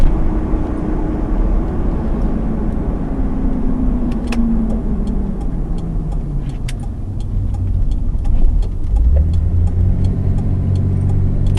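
A Mitsubishi 3000GT engine revving loudly from inside the moving car, its pitch sweeping up and falling as the revs climb toward 6,000 and drop, over steady road rumble and a few faint rattles.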